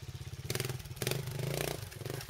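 A trials motorcycle engine putters at a rhythmic idle, then gets a quick double blip of throttle: two or three sharp bursts of revving close by on a grippy staircase section.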